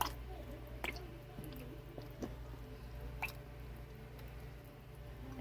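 Zesty Italian dressing is poured over raw chicken, making quiet, wet squishing and dripping sounds with a few soft ticks, faint and close with no talk.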